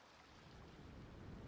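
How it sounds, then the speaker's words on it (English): Ocean waves wash softly on an island shore in the video game Genshin Impact, a faint, steady rushing swell that builds slightly over the moment, with no talking. "I hear waves"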